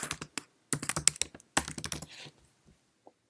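Rapid bursts of typing on a computer keyboard as a file name is entered, clustered keystrokes in quick runs with short pauses, close and fairly clear, ending with a single isolated tap.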